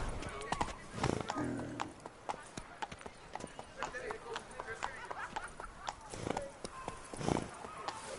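Horse hooves clip-clop at a steady trot in The Witcher video game, close and rhythmic, with a horse's whinny and a voice speaking over the hoofbeats.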